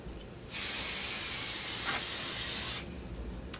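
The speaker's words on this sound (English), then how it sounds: "You don't have to get super heavy with the spray, just enough, again, to keep her tacked down." Fabric spray hisses onto quilt binding in one steady, close burst lasting about two seconds, starting and stopping abruptly against a quiet room.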